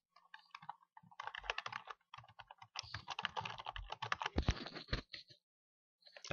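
Fast typing on a computer keyboard while entering an email address, close and crisp bursts of key clicks with short pauses between runs.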